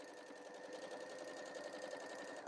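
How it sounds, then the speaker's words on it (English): A sewing machine stitches a bee pouch with a quiet, steady whirring hum and fast regular needle clatter, continuous and uninterrupted, heard close with no voices. "So just gonna sew."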